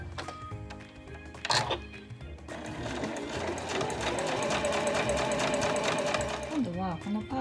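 A sewing machine stitches a granny bag, first with a few short clacks, then a long, busy run of rapid mechanical stitching that grows louder. A voice speaks over it.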